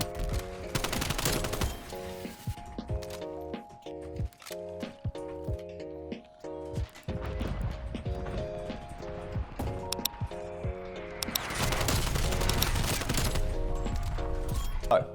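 Gunfire from Call of Duty Black Ops Cold War league play: bursts of rapid shots and sharp single reports over a steady game music bed, loud and close, with a dense volley near the end.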